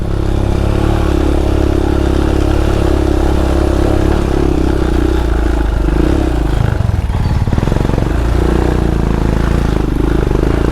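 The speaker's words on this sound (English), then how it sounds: "Lovely wheel spin then." A Royal Enfield motorcycle spins its rear wheel on a muddy green lane, its engine droning loud and steady throughout with a brief rougher, clattering surge partway through.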